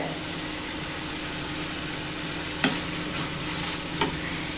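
A spiced curry mixture with asafoetida and chilli powder being stirred in a pan, a continuous close hiss of frying with two distinct scraping strokes of the spoon, no talking.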